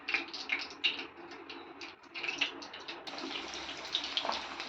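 Chicken wings fry in hot oil, giving a close, bright sizzling crackle with bursts of popping spatter that carries on without a break.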